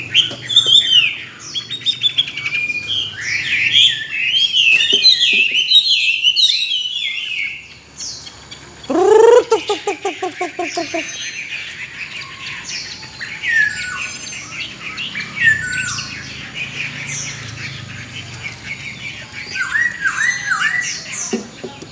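Captive-raised hwamei songbirds sing and call up close, loud, with rapid chirping phrases, squawks and whistled runs that overlap and repeat throughout, with a faint cricket-like background.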